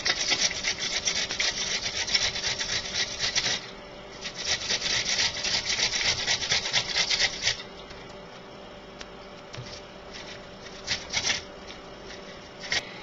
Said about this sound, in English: with the large grater part here, I'm going to